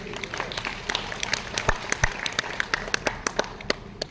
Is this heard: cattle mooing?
no